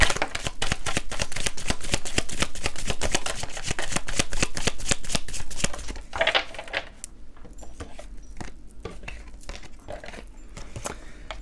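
Cards from tarot decks shuffled in a rapid, steady riffle of crisp flicks for about six seconds, then slower, sparser snaps and slides as cards are drawn.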